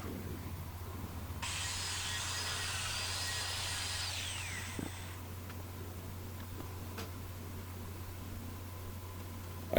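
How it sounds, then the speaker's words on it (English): A power saw rips through plywood for camper cabinet sides, one loud cut lasting about four seconds over a low steady hum, then a clunk and quiet shop background. "cut the plywood sides"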